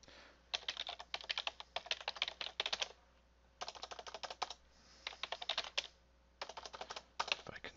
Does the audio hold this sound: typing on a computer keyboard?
yes